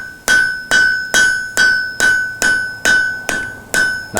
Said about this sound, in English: Now that is a light forge weld.